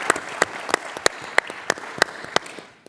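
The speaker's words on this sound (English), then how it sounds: "let's give them a round of applause" Conference attendees at a summit panel give a round of applause, heard as sparse, evenly spaced sharp claps that stand out clearly over a quiet hall before trailing off.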